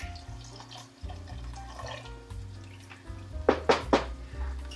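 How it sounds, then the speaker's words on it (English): Broth pouring from a hole punched in a carton into a pot, quiet trickling and splashing with a few light knocks, the flow growing into short louder gushes near the end. "put a hole in the box, and it pours out"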